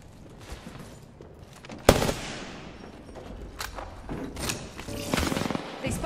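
Prowler gunfire in a video game: a loud, sharp burst of shots near the start, then scattered quieter reports and rapid clustered bursts toward the end over a low background.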